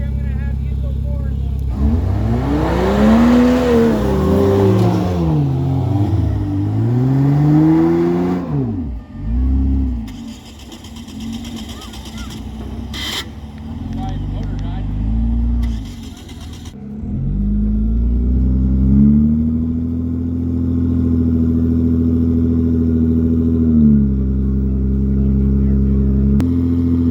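Blue diesel truck engine rumbling and revving under load while winching Black Betty, a vehicle with locked-up tires, through sand at Sand Hollow, near and loud with rising and falling pitch and voices talking over it.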